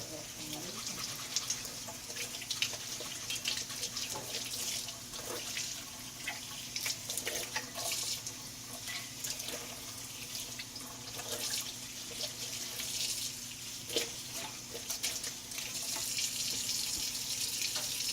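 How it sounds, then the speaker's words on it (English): Tap water runs steadily into a sink while Breville juicer parts are rubbed and rinsed under it, a constant hiss with occasional splashes and knocks of the parts close by. "lightly rub on this side and on the other side to really get that stuff off while running it in the water"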